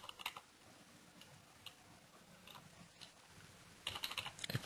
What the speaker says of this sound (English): maybe I'll just type in some random things